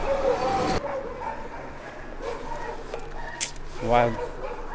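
A dog barks a few times at moderate distance, short sharp yips over a background murmur of voices and household clatter.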